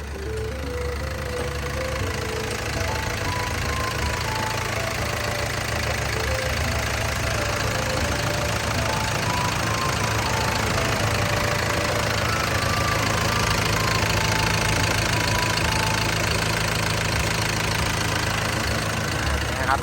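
The turbo diesel engine of a Komatsu WA200-6 wheel loader idles steadily for the whole stretch, a dense knocking rumble that never changes pace, close and continuous with no talking.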